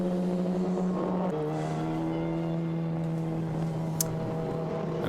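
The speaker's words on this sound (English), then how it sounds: "V12 engine" A McLaren F1 GTR race car with a BMW V12 engine on track at Goodwood gives a steady, sustained droning engine note that shifts pitch partway through, heard from a distance with a faint high click near the end.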